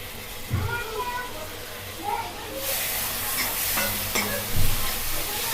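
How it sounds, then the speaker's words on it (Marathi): Cooked usal, a sprouted-bean curry, tipped into a hot pan for misal, setting off a loud broad sizzle that swells midway and holds steady, with stirring scrapes and a voice talking over it. "आता आपण टाकतोय उसळ शिजवलेली"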